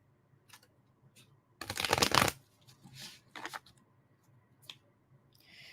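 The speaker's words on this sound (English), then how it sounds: "Judith, I'm pulling a card for you." A tarot card drawn from a deck during a reading, with a brief burst of card shuffling and riffling up close, then scattered softer rustles and slides of cards.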